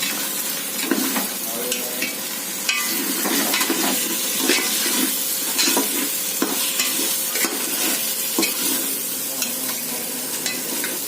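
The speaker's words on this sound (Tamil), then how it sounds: "நாங்கள் புதினா போட்டு நல்லா சுருங்கி வந்துட்டு நல்லா சுருங்கி வதக்கியாச்சு" Mint leaves sautéing in a hot pan for vegetable biryani, a loud steady sizzle broken by repeated scraping stirs of the spoon against the pan.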